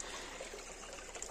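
Water begins flowing into a farm field, a soft, steady trickle and gurgle heard faintly without talk.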